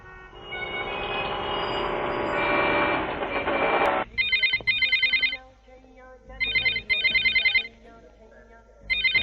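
A telephone rings in a Tamil film scene, its electronic trill arriving in three bursts of double rings after a loud, rushing stretch of noise, each burst clear and close.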